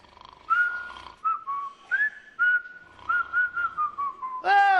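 A person whistles a short, wavering tune in separate bright phrases, close and clear in a quiet room, with a brief burst of other noise at the end.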